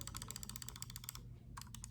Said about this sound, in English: So this is the right click.